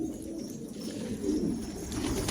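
Pigeons coo in soft, low, rolling calls, several birds overlapping continuously at close range, at a pigeon café in Gaziantep.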